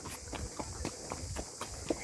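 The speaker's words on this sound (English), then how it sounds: "Really interesting to see the names of all the horses as they pass by." Hooves of horses passing by on a hill-station path at Matheran clop in a fairly regular rhythm, close and moderately soft, with no talk.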